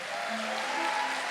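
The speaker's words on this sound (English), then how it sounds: "And round of applause for the countywide winners and all the school-based winners for drama and performing arts" Applause rises at an awards ceremony honoring countywide and school-based drama and performing arts winners, a soft, dense patter of clapping that holds steady from a distance.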